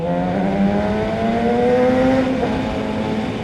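A car engine revs steadily, its pitch rising and falling through a throaty exhaust drone, loud and continuous.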